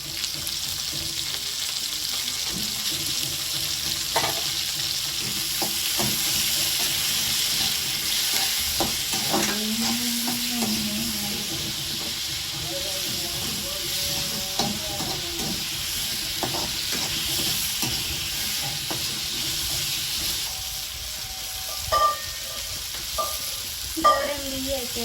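Tomato frying in a pan for palak paneer gives a steady hissing sizzle, broken by repeated scrapes and knocks of a spatula as it is stirred, with a few louder clatters near the end.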